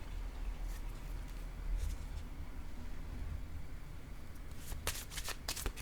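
A playing card slides and is set down on a table during a reading: quiet, soft papery rustles over a faint hiss, ending in a short cluster of crisp card-handling clicks.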